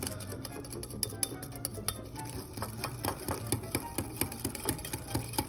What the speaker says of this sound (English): I'm going to whisk that together and just let that sit for a minute.